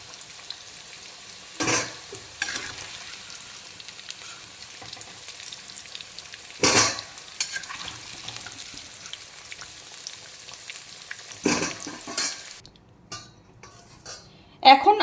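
Potatoes fry in oil with a soft, steady sizzle, broken by a few loud scraping stirs and metal utensil clanks against the pan, close and otherwise fairly quiet, ending with clatter.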